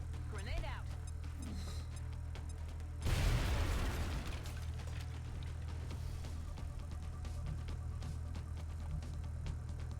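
A grenade blast in the XCOM Enemy Unknown video game, a single sharp boom about three seconds in that rumbles and fades, over a steady low game hum with small mechanical clicks.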